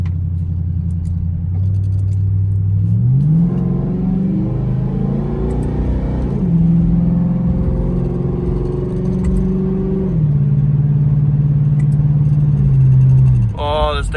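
Ford Crown Victoria fitted with paddle shifters, engine climbing in pitch through a gear, dropping on an accidental upshift, then revving again before a final shift. Loud, steady and close, with someone talking over it.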